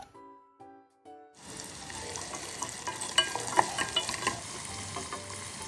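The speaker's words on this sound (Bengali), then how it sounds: "কিছুক্ষণ নেড়ে ভেজে আমি দিয়ে দিচ্ছি একটা চপ টমেটো" Chopped onion with cardamom, cinnamon and a bay leaf stir-frying in oil: after a few brief tones, a steady close sizzle starts and continues with scattered spatula scrapes and pops.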